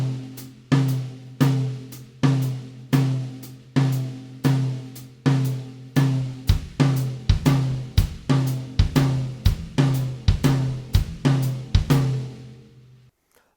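A drum kit plays a swung dotted-quarter figure on the right hand in 3/4 against a bass drum counterpoint, steady repeating hits close and clear, the pattern tightening toward the end before fading out.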